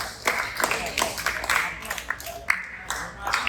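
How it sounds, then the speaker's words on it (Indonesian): A classroom group applauding a team after its evaluation score is read out, with scattered, uneven claps under and between speech. "Tepuk tangan untuk kelompok 3."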